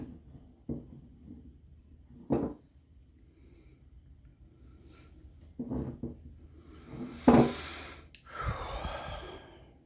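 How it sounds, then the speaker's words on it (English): Heavy breathing comes in scattered, close sighs and gasps, several breathy bursts spaced irregularly over a quiet kitchen background, the strongest near the end. "Heavy breathing?"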